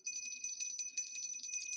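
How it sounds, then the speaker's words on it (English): A small copper bell rings with bright, high tinkling strikes repeated in a quick irregular pattern, faint and close, with no talking over it. "we're going to ring our copper bell"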